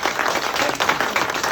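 Short spell of audience applause at a historical society talk on Bruce High School in Dyersburg, brisk, uneven hand claps close by lasting about a second and a half.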